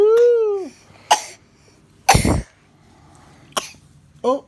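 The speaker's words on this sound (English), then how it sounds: "Oh, I'm gonna cover up your mouth when you cough." A child coughs several times in separate short bursts spaced through the moment, close and fairly loud, with a brief vocal sound at the start and quiet gaps between coughs.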